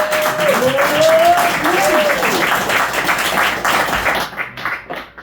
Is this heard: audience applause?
yes